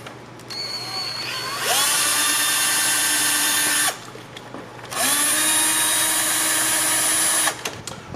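A power drill bites into a thin steel server case in two long, loud bursts of high whine with a short pause between, the motor close and steady during each run.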